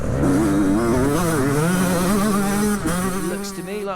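A 125cc two-stroke dirt bike engine revving hard during a race, its buzzing pitch rising and falling through gear changes, loud and close for the whole stretch before easing slightly near the end.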